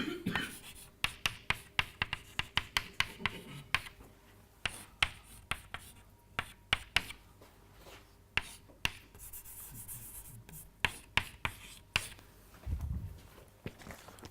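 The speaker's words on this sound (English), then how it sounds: "I can write like so." Chalk or marker writing on a board during a mathematics lecture on R-matrices, a sequence of sharp, distinct taps and scratches in an irregular rhythm, fairly close and quiet, with no talking.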